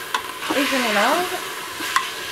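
Pork with ground ginger being stirred inside a Moulinex Cookeo multicooker, a few brief utensil scrapes over a low steady hiss, with a sliding whine in the middle, fairly close.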